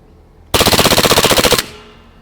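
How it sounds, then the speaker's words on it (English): A We-Tech IREX select-fire gas pistol, a gel ball blaster, empties a fast full-auto burst of about fifteen rapid, evenly spaced cracks in one second, loud and close, with a brief ringing tail after. "Now let's flick it into full auto and see the rate of fire."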